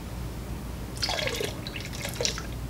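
Liquid rinseless wash concentrate, McKee's 37 N-914, glugging from a bottle into a bucket holding about three and a half gallons of water, with short bubbly gurgles and drips close by.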